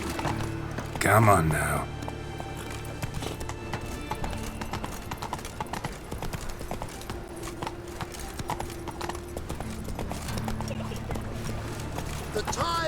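A horse gallops in The Witcher 3: Wild Hunt, its hooves clip-clopping in a steady rhythm throughout. A brief louder burst comes near the start, and someone speaks over the hoofbeats.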